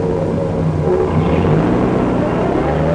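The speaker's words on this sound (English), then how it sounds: "He shifts gears." A city bus pulling away from a stoplight after a gear change, its engine a steady low rumble and whir that swells slightly mid-way, close and continuous with no voices.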